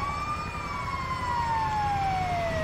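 An ambulance siren in GTA 5 wails continuously in a slow, falling tone, fairly clear and steady against low background rumble, with no talking.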